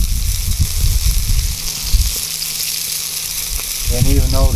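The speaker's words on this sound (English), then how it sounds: "Getting a good sizzle on these." Basque chorizos sizzle and fry in a pan close up, a constant crackling hiss with bursts of spattering, while a person talks over it near the end.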